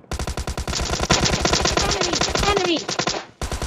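Rapid automatic gunfire in the mobile battle-royale game PUBG Mobile Lite, a close, loud burst of repeated shots that briefly pauses, then a final shot.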